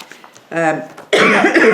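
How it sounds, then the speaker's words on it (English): A single harsh cough bursts out after a brief vocal sound, loud and close. "Excuse me, my cough."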